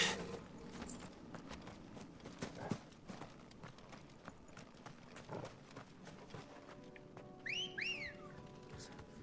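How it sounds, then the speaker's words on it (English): A short, bright rising whistle sounds in a video game near the end, over a busy backdrop of hoof-like clip-clop and mechanical game noises. "Thank you, Clive, for that whistle."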